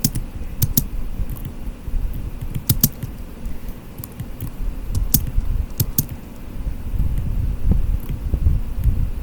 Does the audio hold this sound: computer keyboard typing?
yes